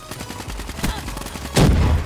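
Video game gunfire: bursts of shots crackle through the first second and a half, then a louder, heavier blast lands near the end, all fairly close with no talking.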